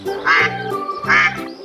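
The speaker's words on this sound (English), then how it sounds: "It's a duck." A duck quacks twice in clear, close succession, loud nasal calls standing alone with no talk.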